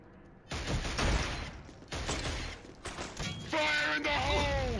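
Killzone on PS3 fills with dense firefight gunfire, rapid bursts and shots overlapping in a continuous loud clatter, while soldiers' voices shout over the combat.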